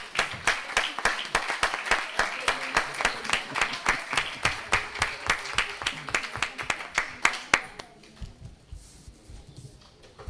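Audience applause at the opening ceremony of a university education faculty's academic year, a dense run of hand claps for about eight seconds that stops abruptly, leaving quiet room noise.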